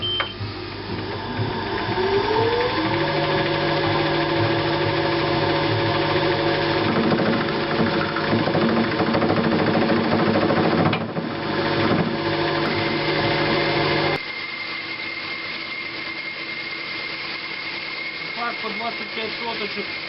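Metal lathe turning down a steel handle blank to 10 mm over a 55 mm length, a loud steady mechanical whine and rumble with a shifting cutting tone, easing to a quieter run partway through.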